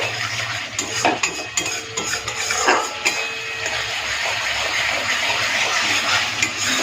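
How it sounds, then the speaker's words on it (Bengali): Salt is stirred into a spice masala in a pan for a soybean bori curry, with a spoon scraping and knocking against the metal in quick bursts over a frying hiss, close and clear. "নুনটা দিয়ে একটুখানি মশলার সাথে ভালো করে মিশিয়ে নিচ্ছি"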